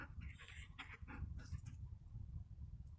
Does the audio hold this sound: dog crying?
yes